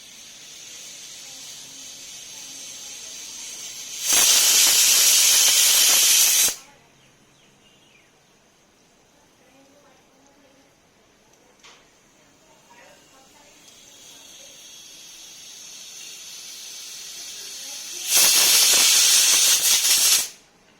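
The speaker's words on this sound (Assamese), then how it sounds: "তিনিটা হুইচেল মাৰিলে এতিয়া মই গেছটো অফ কৰি দিম" Pressure cooker whistling on a gas stove while cooking fish curry with taro and elephant apple: two loud, sustained hissing steam whistles, each lasting about two seconds, with a quieter steady hiss between them.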